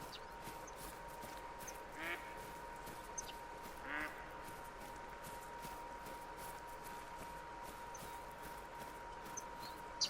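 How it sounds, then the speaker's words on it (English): Ducks in the video game theHunter: Call of the Wild, a few faint, distant quacks around two and four seconds apart over a quiet, steady outdoor ambience with a constant tonal hum. "Bro, there's so many ducks here."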